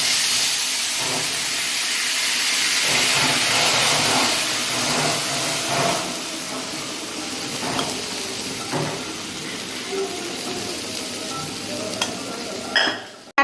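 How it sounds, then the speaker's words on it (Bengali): Mango chutney boils in a pan with a steady bubbling sizzle and hiss, broken by occasional soft clicks and stirring knocks. "এই যে এবারে একটু ফুটে উঠেছে"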